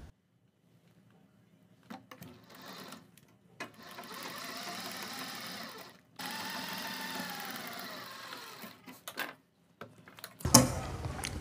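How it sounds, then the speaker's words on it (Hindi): A sewing machine runs a line of stitching along the buckram edge of a kurti collar, a steady close whir in two sustained runs separated by short stops, ending with a brief clatter and no talking. "अब हमें बुकरम के बराबर बराबर सिलाई लगानी है।"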